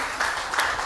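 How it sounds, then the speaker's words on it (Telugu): A church congregation at a Saturday service clapping together, a brief burst of applause with two louder swells. "చప్పట్లు కొట్టండి ఒకసారి."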